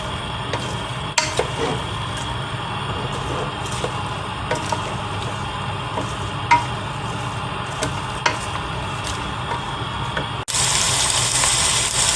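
Steady sizzling of onions frying in oil in a pressure cooker, with occasional stirring clinks and a brief louder hiss near the end.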